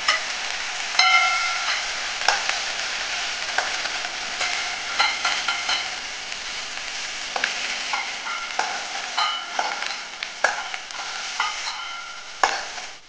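Broccoli florets sizzle steadily in hot oil in a pan, with frequent sharp scraping and clinking stirs from a spoon punctuating the continuous frying hiss, close and fairly loud throughout.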